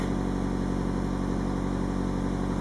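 A cold car engine runs steadily at elevated revs, a continuous even hum with no changes in pitch, recorded close with no talking.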